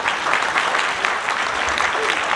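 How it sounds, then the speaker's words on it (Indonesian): Applause from an audience at a Ciputra Group property cluster launch event, a full continuous wash of clapping that holds steady and fairly loud. "Tepuk tangan buat Ciputra Group."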